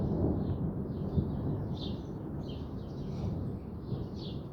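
Thunder from an evening thunderstorm rolls as a continuous low rumble, fairly distant and steady, while birds chirp faintly and intermittently above it.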